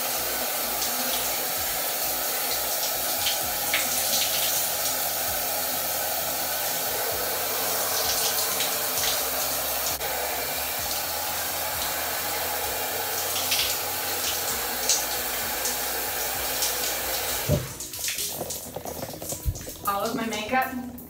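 Shower water pours in a steady, loud hiss for most of the stretch, then the flow breaks up near the end into splashing and bumping as someone moves under it.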